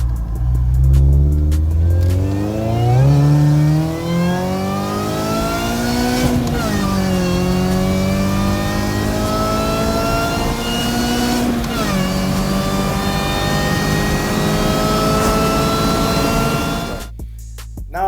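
A modified car engine in South Africa revs repeatedly, climbing through gears with loud rising drones and brief drops between shifts, close and powerful with no talking.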